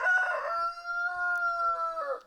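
A buff Orpington rooster crows nearby in the woods, one long, loud, drawn-out cock-a-doodle-doo with a clear sustained middle and a ragged trailing end.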